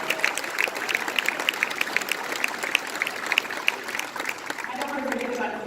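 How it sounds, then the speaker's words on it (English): Sustained applause from an audience at a community meeting about the Dix Park master plan, a steady dense clatter of clapping lasting throughout, with some crowd noise mixed in. "So let's give a round of applause."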